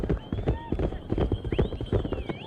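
Horse hooves clip-clop at a rapid, galloping pace during a horse race in mainland China, with busy crowd talk and noise running underneath.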